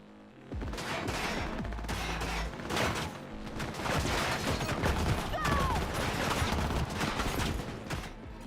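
Rapid submachine gun bursts ring out in the Cyberpunk 2077 game, dense and sustained for several seconds, loud and up close with a few brief gaps between volleys.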